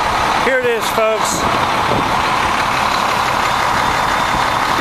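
A 2009 International TranStar 8600 truck with a Cummins engine idles with a steady, even rumble, while someone talks over it.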